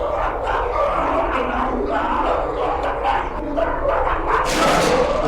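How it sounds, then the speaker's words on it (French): Dogs barking and yapping in a video game, several barks overlapping in a loud, continuous clamor, with excited voices and game noise mixed underneath. "C'est des chiens, c'est des chiens!"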